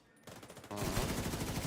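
An automatic weapon in the video game The Division 2 fires a rapid, continuous burst that starts softly and then jumps louder, sustained fast rattling with no talk over it.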